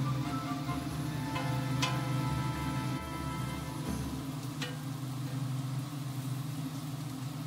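Meat chunks browning in a butter and oil mixture for a wild mushroom Irish stew hiss and sizzle steadily in the pan over a constant low hum, with a few faint clicks.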